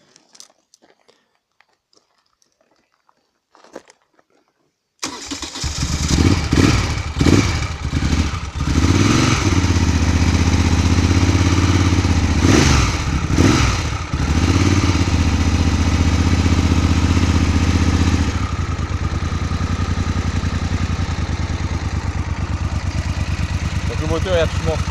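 A cold Moto Guzzi V10 Centauro with Magneti Marelli fuel injection starts after a near-silent lead-in, then idles loud and close with a steady low throb and some uneven revving early on.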